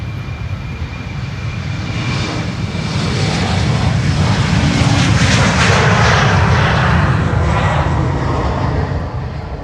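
An airliner departing Schiphol's Polderbaan runway 36L roars steadily and loudly, its engine rumble swelling and holding as the plane passes, with broad jet noise and no voices.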